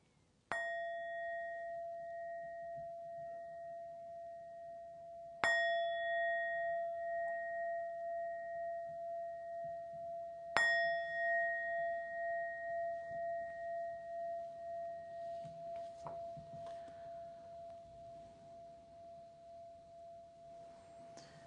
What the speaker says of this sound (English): as you hear the gong and relax for a few moments